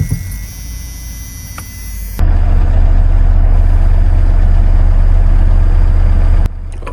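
A Dodge Dakota engine idles with a deep, steady low hum. A faint electronic tick comes from an online metronome early on, then the idle swells louder and holds steady before dropping back near the end.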